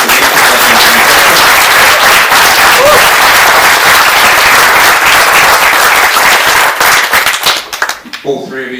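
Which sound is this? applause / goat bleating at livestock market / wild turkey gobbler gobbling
applause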